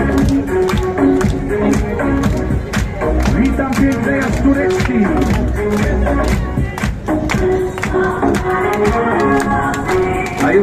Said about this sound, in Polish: Ręce w górę i klaszczemy na lądzie.